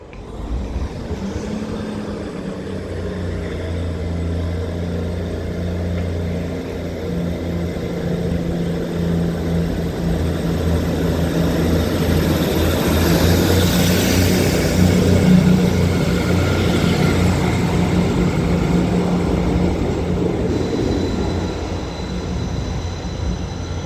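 A Class 158 diesel multiple unit, 158871, pulls out of Wakefield Westgate station with a loud, steady diesel engine drone and rumble that slowly builds, joined by rail noise and a faint high squeal, no talking.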